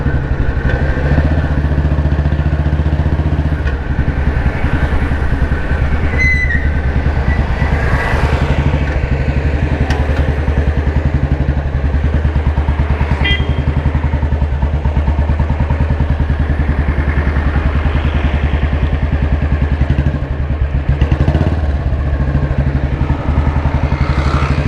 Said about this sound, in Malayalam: ഈ ഒരു എക്സോസ്റ്റ് നോട്ട് എന്ന് പറഞ്ഞാൽ നമുക്ക് അലൗഡ് ആയതുകൊണ്ട് തന്നെ നമുക്ക് അതിൻ്റെ പൂർണ്ണമായിട്ടുള്ള ആസ്വാദനം കിട്ടുന്നുള്ളതാണ്